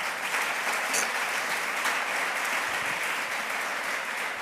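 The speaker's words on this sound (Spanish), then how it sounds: "Denle un aplauso a Dios gigante, por favor." A church congregation claps together in sustained, dense applause, steady and fairly loud throughout, with no speech over it.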